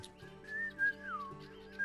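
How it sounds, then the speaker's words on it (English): A person whistles a short, wavering melodic line, clear and fairly close, the pitch gliding up and down over a couple of seconds against a quiet background. "I'm just whistling and I'm like,"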